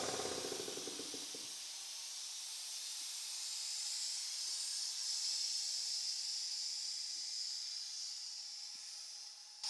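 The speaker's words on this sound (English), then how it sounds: "So you can hear that valve is called the unloader valve, and it's taking pressure off the pistons" An air compressor's unloader valve releases pressure from the pistons in a steady hiss that holds for the whole stretch, following a brief mechanical rattle at the start, moderately close with no talking.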